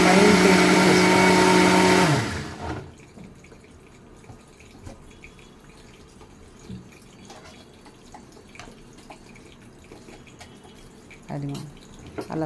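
A kitchen mixer grinds ingredients into a fine paste for an eggplant and onion chili dish, a loud whirring burst of about two seconds that stops abruptly, leaving a quiet room with faint clatter.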